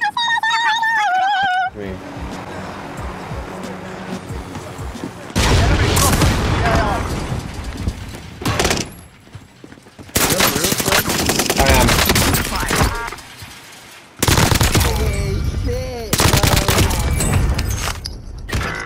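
Call of Duty gunfire, loud bursts of rapid shots and booms in several separate volleys with quieter gaps between them.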